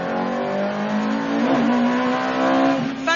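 Ferrari F430 Challenge race car with a straight-through exhaust, engine revving hard and close with a steady, rich harmonic drone that shifts pitch slightly as it accelerates.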